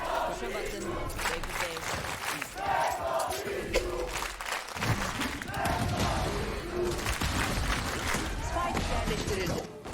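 Loud arena crowd cheers and roars in waves at a VALORANT Game Changers Championship esports match in Berlin, with a caster talking over the noise throughout.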